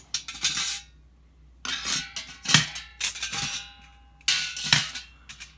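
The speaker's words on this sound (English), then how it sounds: "And you can drop the whole mess down inside your cooker." Metal parts of a lightweight hobo stove dropped down inside a cooker, several bright clattering metallic clanks and rattles in separate bursts, close and fairly loud with no talk.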